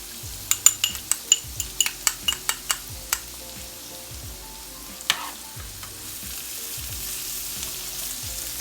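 Oil heating in a pan for roasted chicken hash, a soft steady sizzle that grows slightly louder, preceded by a quick series of sharp utensil taps and clinks.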